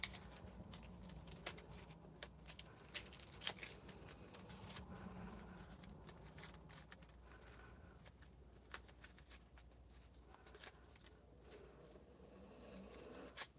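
Stapled craft material being ripped off during whimsy-making, heard as a series of short, scratchy tearing and scraping bursts at close range, with quieter rustling between them.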